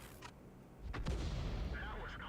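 A shot from the S-51 self-propelled artillery gun in World of Tanks, a single deep boom rising into a sustained rumbling roll, fairly quiet and heard alone after a short sharp crack.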